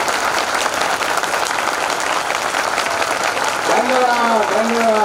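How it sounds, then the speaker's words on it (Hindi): Sustained loud applause from an audience at a Lavkush Jayanti celebration, dense clapping filling the whole stretch with a crowd murmur, and a voice briefly heard calling out near the end. "जोरदार दोनों हाथ उठा के ताली हो जाइए"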